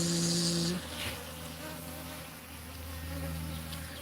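Bees swarm a sugar water feeder in a garden, their close, constant buzzing briefly topped at the start by a louder, higher whine as one passes near, then settling into a steady hum.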